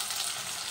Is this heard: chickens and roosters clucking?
no